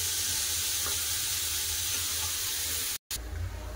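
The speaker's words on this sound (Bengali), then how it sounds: "আলুগুলো খুব সুন্দর করে লাল করে ভাজা হয়ে গেছে" Potatoes fry until reddish-brown in a pan for a Bengali fish curry with potato and tomato, giving a steady, close, even sizzle that cuts out briefly near the end and then resumes.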